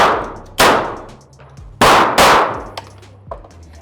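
Two sharp, loud shots from a BinTac big-bore semi-auto airgun, each with a metallic ring that decays, followed by faint clinks, with nobody speaking.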